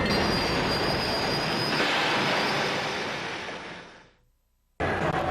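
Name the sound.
train passing on railroad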